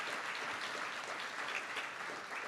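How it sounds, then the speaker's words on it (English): Dense, steady applause from the audience fills a short moment at a Teacher of the Year ceremony, fairly faint and even throughout with no voices over it. "Again, give yourselves a round of applause."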